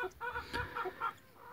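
A brooding hen gives a short series of soft, low clucks and murmurs, close and quiet, five or six notes in quick succession.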